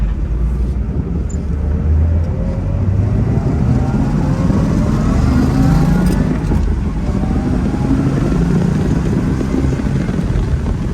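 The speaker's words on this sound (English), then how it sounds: "Gets up through the gears really nicely. Slows down just the same." A 1963 Chevrolet Split Window Corvette drives past, its V8 engine droning loudly and rising in pitch as it pulls up through the gears, close and continuous throughout.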